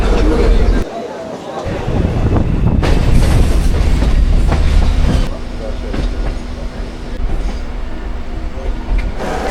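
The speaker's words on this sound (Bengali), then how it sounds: "Volga local is arriving on platform number 2." A local train pulls into a busy station platform near Sealdah in Kolkata, with loud rumbling, clattering wheels and steady rail noise throughout, while people talk nearby.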